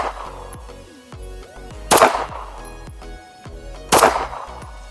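Two sharp handgun shots ring out indoors during a red dot drill, about two seconds apart, loud and close, over a steady tonal background.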